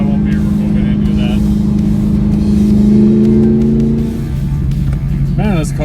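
A 2000 Mustang Cobra R with Bassani side exhaust accelerates with a loud, close, throaty drone that holds strongly, then eases off after about four seconds.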